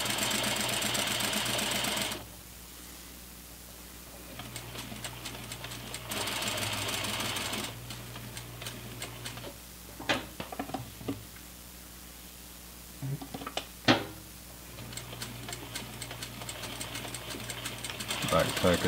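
A sewing machine stitches the crotch seam of a pair of pants in several loud, rapid whirring runs separated by pauses with handling noises and occasional talk.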